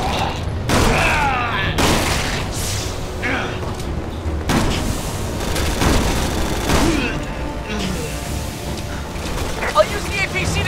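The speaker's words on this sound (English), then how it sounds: "Oh, I'm getting shot." Resident Evil 6 co-op gameplay with gunfire and explosions: scattered bursts of shots, mechanical clanks and booms under a busy game soundtrack, with players talking over the action.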